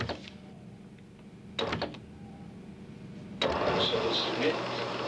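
A car engine cranks in two short bursts, then catches and settles into a steady running rumble, fairly close, with people talking around it.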